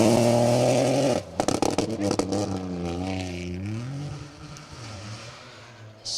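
A Peugeot rally car blasts through a forest stage on a tarmac-free rally special, its engine rising in pitch as it approaches, popping on a gear change, then fading into the distance after a loud close pass.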